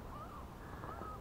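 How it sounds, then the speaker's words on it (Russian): Gulls call twice above a boat while fishing at sea, faint and distant, each cry a short rising wail over steady wind and water noise. "Разлетались чайки."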